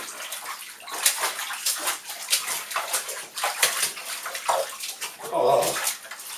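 Clothes are washed by hand in a bathtub, with water sloshing and splashing in irregular bursts, close and moderately loud, and no talk over it.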